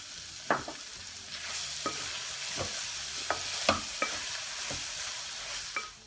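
Beef fries in a pan with a steady sizzle while a utensil stirs it, scraping and tapping at irregular intervals, close up and without any talking.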